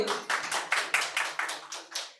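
Applause for a quiz competition winner at a medical college and hospital, a room of people clapping in steady bursts that swell and fade several times, fairly close and loud, with no talking over it.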